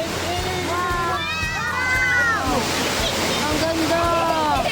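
Surf rolling and washing steadily along a Laguna shoreline at Pangil EcoPark, heard as a continuous hiss and wash under a person speaking.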